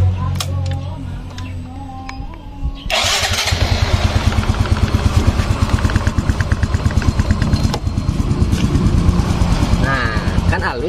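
A motorcycle engine cranks and starts, then settles into a steady, smooth idle with an even rapid pulsing, loud and close, while a person talks over it.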